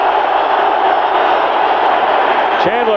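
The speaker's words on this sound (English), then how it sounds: "Crowd getting in the action here." A stadium crowd at a 1992 NFL football game between the Phoenix Cardinals and the Dallas Cowboys roars in a loud, steady wash of cheering, with a commentator talking over it.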